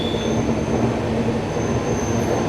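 A train rolls along a railway track in Kerala during monsoon rain, a steady loud rumble of wheels with a faint high squeal running through, continuous and close for the whole stretch.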